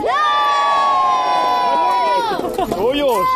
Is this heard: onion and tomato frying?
no